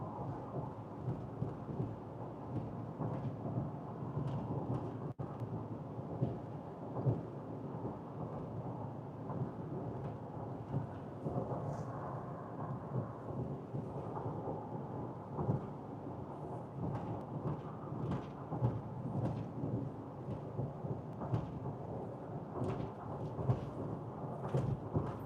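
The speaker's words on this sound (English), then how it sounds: "That storm is moving through Fort Morgan and headed into brush right now" Thunderstorm rolling across the Colorado plains near Fort Morgan, a steady broad rumble of thunder and rain lasting throughout, with no talk over it.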